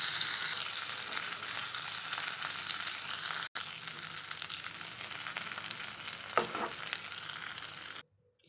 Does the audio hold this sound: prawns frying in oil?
yes